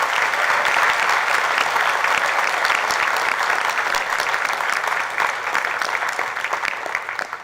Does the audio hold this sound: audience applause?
yes